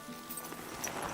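Horse hooves clip-clop in the video game Kingdom Come Deliverance 2, a short run of quick, fairly close steps over soft ambient background.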